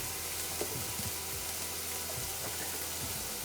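Garlic powder being stirred into a simmering orange chicken sauce, a constant soft sizzle with faint scraping and bubbling, close and unbroken, no talking.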